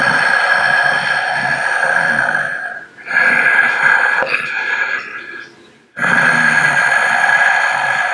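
Heavy, rough breathing with gasping and snorting, loud and close, running continuously with two brief pauses.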